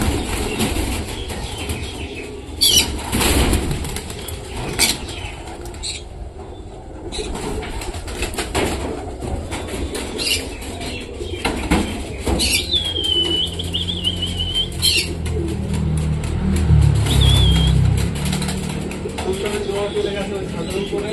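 Pigeons kept on a rooftop flap and coo, with wingbeats and soft cooing calls scattered through steady outdoor noise, while people talk intermittently nearby.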